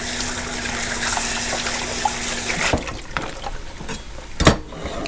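Tap water running over steak pieces of filet mignon and top sirloin being rinsed, a steady splashing flow that breaks up into intermittent trickles and splatters.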